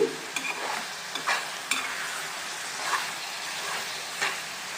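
A spoon scrapes and stirs garlic dry fish curry in a pan over steady frying sizzle, with several distinct scraping strokes at an unhurried, uneven pace, close by and with no voices.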